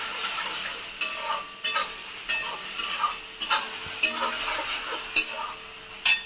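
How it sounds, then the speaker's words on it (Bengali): A spoon stirs sugar into mango dahi chicken in a pan, with a steady sizzle under irregular scraping and sharp clicks of the utensil against the pan. "চিনিটা দিয়ে একটু ভালো করে নাড়িয়ে নিতে হবে।"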